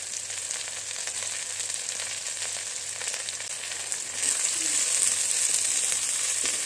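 Vegetables frying in a pan give a steady, close hiss that grows louder and brighter in the last few seconds, with no voices present.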